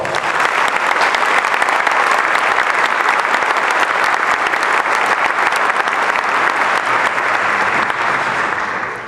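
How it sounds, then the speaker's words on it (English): Sustained audience applause at a dental school graduation ceremony for a retiring staff member, a dense, even roar of many hands clapping continuously and loudly for several seconds before tapering slightly at the end. "I'd like to give her a big round of applause"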